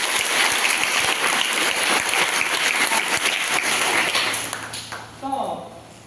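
Audience applause at a gathering, dense steady clapping filling most of the stretch before thinning out near the end, with a voice briefly speaking over the tail.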